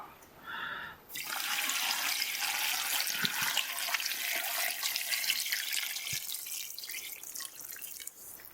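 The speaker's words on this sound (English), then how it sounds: "the water spilling out like a waterfall" Water spills out of a container like a small waterfall while olives are being cured, a steady close rushing pour that starts after a second and runs continuously to the end.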